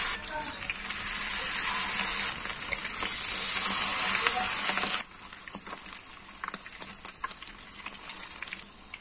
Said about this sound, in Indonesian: Lalu goreng hingga matang.